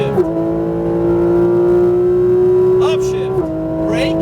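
Porsche GT3 RS engine howling at full throttle, a steady rising harmonic drone broken by a sharp upshift drop near the end, loud and close with a voice talking over it.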